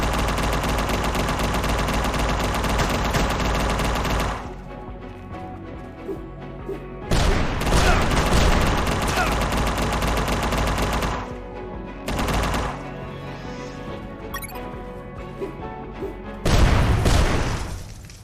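Machine gun fire from a boss fight in the video game Unmetal, loud bursts broken by short gaps with booms and crashes mixed in, over game music.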